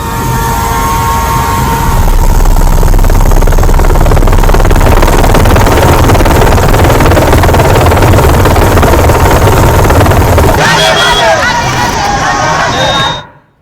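A helicopter roars loudly and steadily nearby, with crowd babble mixed in, before the noise cuts off abruptly near the end.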